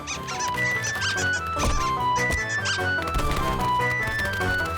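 Cartoon squirrels in a children's animated show make rapid, high-pitched squeaks over busy, loud background music, the chirps repeating throughout.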